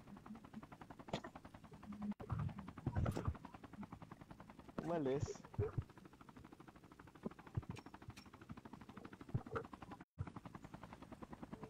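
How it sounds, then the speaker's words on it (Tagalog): A military helicopter in the Call of Duty Mobile video game makes a rapid, steady rotor chop throughout, joined by bursts of gunfire while players talk over it. "May helicopter ka agad ah."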